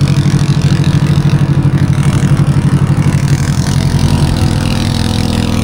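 A motorboat engine on a Philippine fishing boat runs loud and close, a deep, steady throbbing drone that carries on throughout with no voices.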